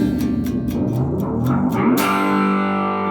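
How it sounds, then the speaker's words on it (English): An electric guitar tone with a sustained, organ-like octave effect from an octave pedal, shimmering chords ringing out after a few short rhythmic strums. "it's my organ effect"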